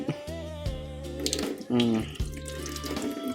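Water runs from a tap in an outdoor dirty kitchen with a steady rushing hiss, while a person talks over it and some background music plays.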